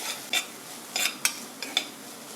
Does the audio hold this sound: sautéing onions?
yes